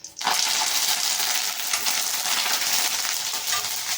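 Curry leaves crackle and sizzle loudly in hot oil for a fish curry, starting with a sharp burst as they hit the pan and settling into a steady, dense frying hiss with no voices.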